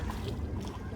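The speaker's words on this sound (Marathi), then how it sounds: "आता बघू शकता इंजिन चालू झालेलं आपल्या" Boat engine, a brief, dense, continuous low rumble heard close and loud.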